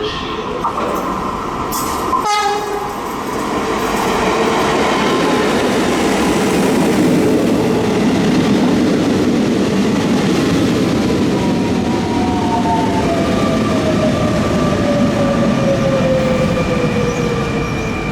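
A suburban commuter train rolls into a station platform at rush hour, a loud steady rumble of wheels and carriages with a sharp clack early on and a long rising squeal of wheels as it slows.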